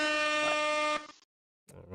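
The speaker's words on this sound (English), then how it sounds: "I didn't mean to hit that air horn" A loud, sustained air horn blast with rich harmonic tones lasting about a second, then a brief silence before faint noise returns.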